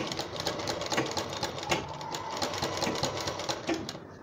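A sewing machine stitches along the piping edge of a dori neck design, a fast, close, rattling run of needle strokes throughout, without speech.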